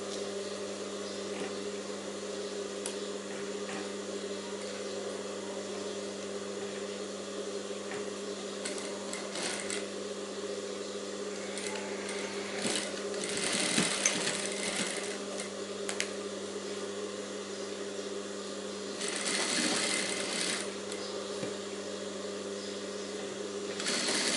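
A sewing machine stitches a princess-cut blouse along a marked line, its motor giving a steady, fairly quiet whirring hum that swells into louder bursts as the needle runs, with no talking.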